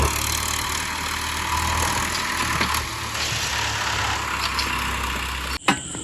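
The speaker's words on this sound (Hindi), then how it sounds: "ले भाई गड्डी चल पड़ी बरक के।" A tractor engine runs loud and steady nearby as it pulls away from a brick kiln, with a low constant rumble and an abrupt clunk at the end.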